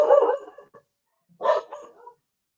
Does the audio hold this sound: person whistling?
no